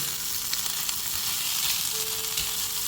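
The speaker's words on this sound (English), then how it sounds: "And see how I'm stirring it?" Food sizzling in a pan while being stirred, a steady close crackling hiss with light scraping and occasional clinks of the utensil, and no voices.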